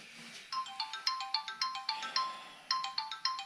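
Phone ringtone for an incoming call, a bright, clear electronic melody of quick repeating notes playing in two phrases separated by a short pause, near and moderately loud with no talk.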